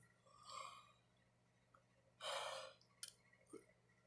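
A breathy, drawn-out yawn-like exhale with a few softer breaths and small mouth sounds before and after, close and fairly quiet.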